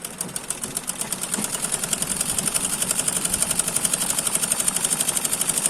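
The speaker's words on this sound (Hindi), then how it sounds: "ये अब हम अपनी सिलाई चलाएंगे।" A sewing machine runs steadily while stitching a suit, its rapid even mechanical chatter building to a fast regular rhythm, close and fairly loud with no talk.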